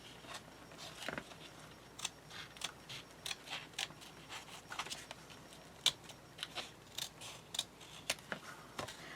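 Scissors snip through thin craft material for a display box, a quick run of sharp, separate cuts with short pauses between them, close and fairly quiet, with no one speaking.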